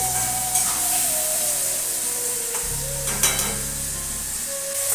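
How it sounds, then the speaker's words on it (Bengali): Onions frying in a pan until brown, with a steady, close sizzle and intermittent stirring scrapes and clinks, and no talk. "আজকে একটু বাদামি করে ভেজে নিই"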